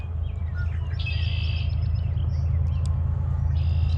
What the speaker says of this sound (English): Yeah, a lot of red-winged blackbirds flying around.